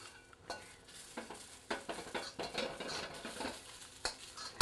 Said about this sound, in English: Now you're going to stir fry the chives or your pungent veggies until